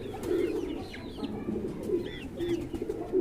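A pigeon coos repeatedly and softly, low rounded calls in a slow rhythm close by, with a few faint chirps from other birds above a quiet background.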